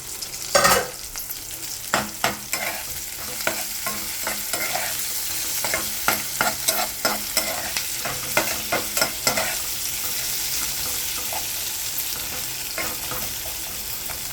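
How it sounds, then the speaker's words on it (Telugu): Curry leaves and dried chillies fry in hot oil, giving a steady sizzle broken by sharp, repeated scrapes of stirring. "చూసారు కదా ఇది వేగుతూ ఉంటుంది"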